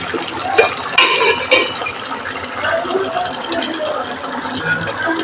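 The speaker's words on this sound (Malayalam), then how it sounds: "കുറച്ച് പച്ച വെളിച്ചെണ്ണ ഒഴിക്കുക" Raw coconut oil is poured into a pan of mackerel curry, a soft, close trickle with light splashes and a few clinks against the pot.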